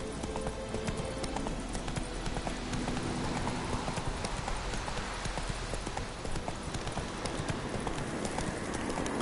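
Hooves of a horse ridden in The Witcher 3 clop in a fast, continuous beat, close and loud against a dense outdoor game soundscape, with no talk.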